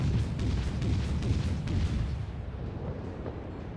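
Guns of the USS Charleston (C-22) cruiser firing in World of Warships, heard as a muffled low rumbling boom that rolls on and slowly fades, with no talk.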